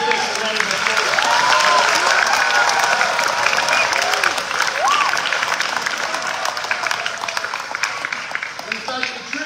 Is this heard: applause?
yes